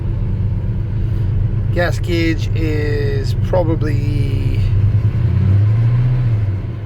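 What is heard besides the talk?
1985 Chevy Squarebody engine running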